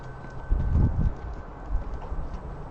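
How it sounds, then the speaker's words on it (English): Low rumbling gusts of wind buffet the microphone, strongest in a brief burst near the start, then settling into a softer steady rush. "It's kind of windy though"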